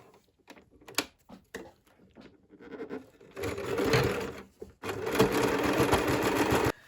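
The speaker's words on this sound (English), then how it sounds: "we are going to sew here" A sewing machine stitches a strap onto a crochet granny square handbag, with two steady runs of whirring after some handling clicks and taps, and no one talking.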